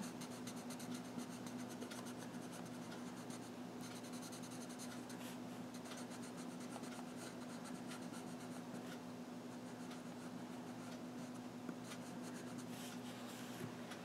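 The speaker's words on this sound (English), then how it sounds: "you can just go in with a light touch with a dark crayon" A dark crayon moves over paper with a light touch during a colouring demo, making a continuous soft, faint scratching and rubbing with small irregular strokes.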